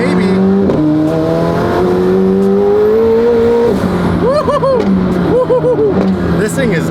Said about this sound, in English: Now, I'm driving the Senna